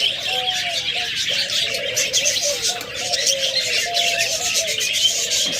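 A crowded collection of caged pet birds for sale (cockatiels, budgerigars, lovebirds and doves) keeps up a loud, continuous chatter of chirps and tweets over a repeated low cooing, with no talking.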